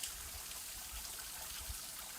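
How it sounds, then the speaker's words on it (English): A mountain stream on Old Speck Mountain in Maine trickles and flows steadily, a soft continuous watery hiss at moderate distance with no voices. "Just a nice sound of water coming down."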